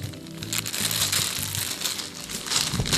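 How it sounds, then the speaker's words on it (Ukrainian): Close, continuous crinkling and rustling of a thin cellophane bag being pulled over a bottle in a garden, loud and busy throughout. "І одіваємо пакет целлофановий"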